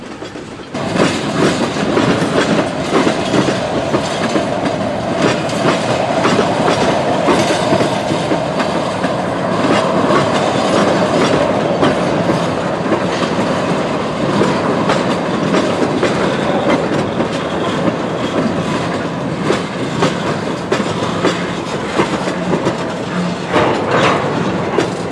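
An Ohio Central freight train hauls tanker cars past, its wheels keeping up a loud, steady clickety-clack rumble close by for the whole stretch.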